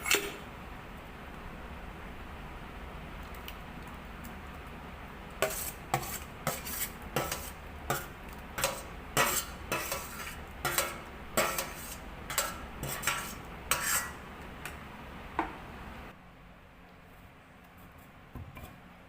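Grated mango pulp tipped into a pan for sweet-sour mango chutney, a run of sharp metallic clinks and scrapes of utensil against pan over a steady low background hiss, then a quieter tail.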